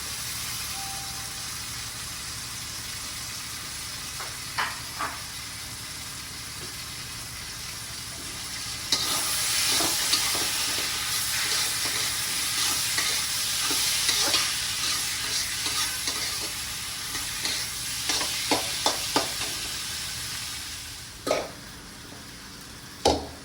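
Onions frying and being stirred in a pan for a curry, a steady broadband sizzle with scraping stirs throughout, brightening midway and punctuated by sharp clinks of the spoon against the pan, with no talk.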